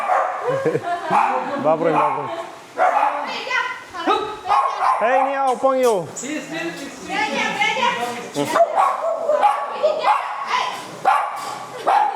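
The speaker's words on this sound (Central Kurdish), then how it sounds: "جا یەک دنیا سەگیانەیە لە ژوورە" Many dogs kept in a house in China bark and yip repeatedly, some high-pitched and whimpering, close by and overlapping with a person talking throughout.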